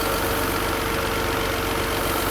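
A Mercedes W123 280CE, Japanese-spec, idles steadily after a full engine repair, a close, even mid-low mechanical hum with a regular pulsing beat and no talk.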